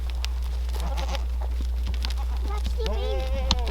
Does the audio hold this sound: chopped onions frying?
no